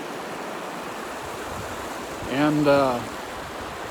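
Creek water rushes in a steady broadband wash on a Pacific Crest Trail hike, with someone speaking briefly over the flow.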